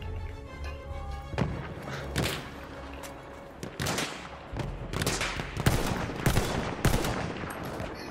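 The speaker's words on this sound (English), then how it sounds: "Wait for the enemy artillery barrage to stop firing." Heavy booms and scattered gunfire from an enemy artillery barrage in the video game Battlefield 1, irregular loud impacts spaced a second or so apart over a rumbling battlefield background.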